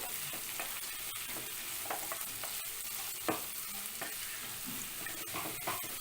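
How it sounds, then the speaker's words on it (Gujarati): Grated carrots with turmeric and salt sauté over a medium flame for a Gujarati carrot sambharo, a continuous close sizzle broken by repeated scraping clicks of a spoon stirring the pan. "બધું હળદર મીઠું ઉમેર્યા પછી મીડિયમ ફ્લેમ પર 2 મિનિટ માટે આપણે આવી રીતે સાતળીશું."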